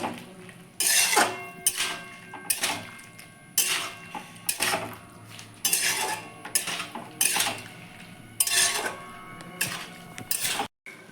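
Spoon scraping and clinking in a pan while tomatoes are mixed with salt and turmeric for a tomato, date and mango-leather chutney, in repeated bursts of stirring with brief pauses, close and fairly loud, no talking.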